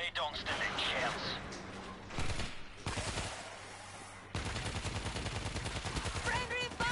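Rapid bursts of gunfire in the zombie shooter World War Z fill a busy game mix, with dense rattling volleys that come and go across several seconds while voices talk over the action.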